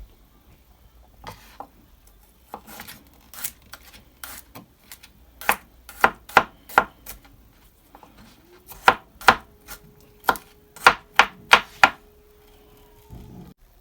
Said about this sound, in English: I'm gonna cut up the garlic the same way like I cut up the